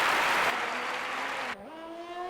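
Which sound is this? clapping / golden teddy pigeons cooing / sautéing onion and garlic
clapping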